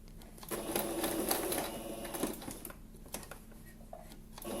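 A sewing machine sews a straight stretch of fabric in a dressmaking practice exercise, its fast mechanical whir running steadily near the mic for several seconds, easing to lighter ticks and pauses toward the end.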